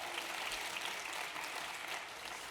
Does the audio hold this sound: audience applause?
yes